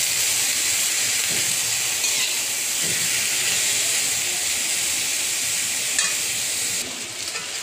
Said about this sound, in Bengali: একটা আলু দিয়ে দিলাম আর করলা সুন্দর করে ভেজে নিব।